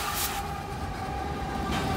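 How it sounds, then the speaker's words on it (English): A Norfolk Southern train rolls into downtown Pittsburgh with a steady, close rumble of railcars and a faint sustained tonal squeal over the wheels, growing slightly louder at the end. "Here he comes, Norfolk Southern, going to approach into downtown Pittsburgh."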